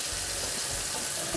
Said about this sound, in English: So some cold water I'm running on it to cool it down a bit.